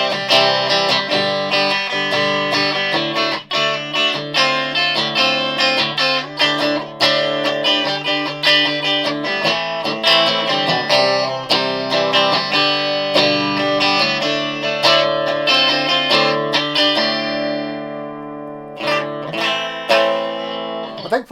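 An electric guitar, a Stratocaster on the bridge pickup, plays a bright, continuous run of chords and notes, fairly loud and alone, ringing out and thinning near the end.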